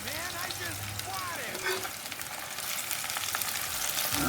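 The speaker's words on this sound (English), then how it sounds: "We shall let this cook till the onions get a little transparent, goldenish." Onions frying in a pan over a medium flame for eggplant curry, a continuous soft sizzle with faint stirring scrapes, quiet and close, with some background voice sounds.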